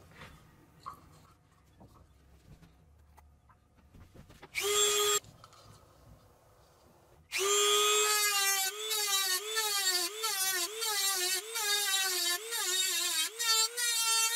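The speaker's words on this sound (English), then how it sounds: "So I'm just gonna take the Dremel and just cut a little bit of that out." A Dremel rotary tool cuts into a part on a Bear Creek Arsenal .450 Bushmaster rifle, giving a brief high whine and then a long, loud, close grinding whine that rises and dips in pitch as the cut is made, with no talk.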